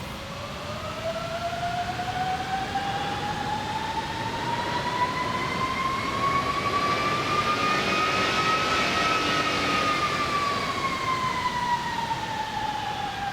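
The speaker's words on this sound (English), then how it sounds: "if I stand on the brakes here and I throttle up one of my engines" A jet engine on an airliner in the X-Plane 12 flight simulator throttles up while the aircraft holds on its brakes, a loud whining tone rising steadily in pitch, peaking, then easing slightly over a steady roar.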